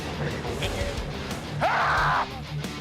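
A competitor at a World's Strongest Man event lets out a loud, drawn-out strained yell, preceded by crowd noise and other voices in the arena.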